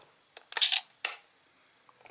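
A few sharp plastic clicks and snaps as a Power Rangers Animal Force morpher toy (DX Zyuoh Changer) closes, close and fairly quiet, with a brief clattering burst in the middle and silence between.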